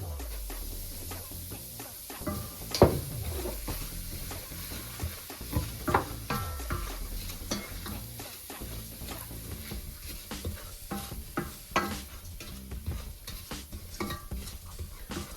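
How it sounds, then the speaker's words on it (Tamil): Semolina roasting in a pan for pineapple kesari, with a dense run of quick scraping and stirring strokes over a faint hiss, plus a few louder clinks against the pan; close and fairly soft, with no talking. "இப்போ நான் இதுக்குள்ளே ரவையை போட்டு வறுக்க போகிறேன்"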